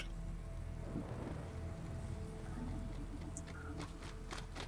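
Steady rain hisses over a low, rolling rumble of thunder, with scattered drops pattering close by, in the video game Metal Gear Rising: Revengeance.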